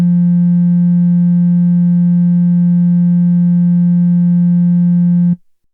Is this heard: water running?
no